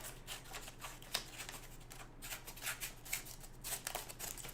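Scissors trim excess paper while a handmade dance fan is being made, giving quiet, rapid rustling snips that run continuously at a soft, close level.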